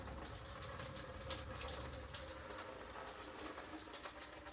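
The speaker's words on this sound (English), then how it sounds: "It's a bit of an ugly pour." Fuel pours from the tank of an Austin A30/A35 under restoration, a steady, close, moderately quiet liquid gush with a slight gurgle that runs unbroken throughout.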